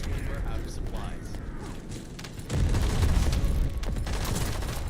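Rapid gunfire with noticeable recoil crackles in a survivor-like video game, bursting into a dense, loud volley midway after lighter mechanical clicks, with a voice talking over it.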